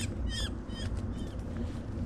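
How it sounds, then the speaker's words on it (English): A small wild bird caught in a mist net gives several brief, scratchy complaining calls while being untangled for banding, close by over a steady broadband background noise. "the bird complains about the whole operation"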